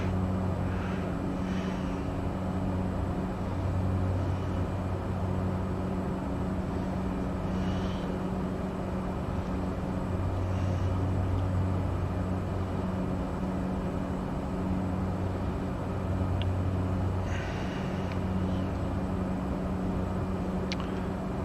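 Cessna 208 Caravan single turboprop engine in Microsoft Flight Simulator 2020 before a takeoff run, a steady loud droning hum with low tonal bands that swell slightly and fall back over the whole stretch.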